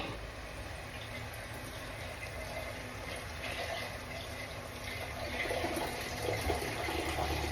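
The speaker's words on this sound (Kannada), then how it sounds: "ನಾನು ಇದಕ್ಕೆ ಈಗ ಇದೇ ಮಸಾಲ ಜಾರ್ಗೆ ಸ್ವಲ್ಪ ನೀರು ಹಾಕಿ ಹಾಕ್ತಾ ಇದ್ದೀನಿ" Water is poured into a mixer masala jar as a quiet, continuous trickle that grows slightly louder toward the end, with no talking.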